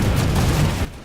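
Grenade explosion in a video game, a loud dense booming blast filling the first moment and cutting off abruptly to a quieter tail.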